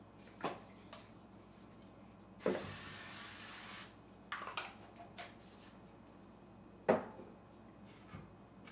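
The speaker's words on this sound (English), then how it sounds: "you're going to grease it with cooking spray" A single steady hiss of cooking spray greasing a bowl, lasting about a second and a half, close by, between quiet clicks and small handling knocks.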